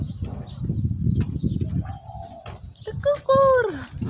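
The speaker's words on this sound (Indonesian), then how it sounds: "Tekukur. Burung pekukur teman-teman." A spotted dove coos from a perch on a morning walk in Taiwan, its short, bending call rising near the end of the clip after a stretch of background chatter and street noise.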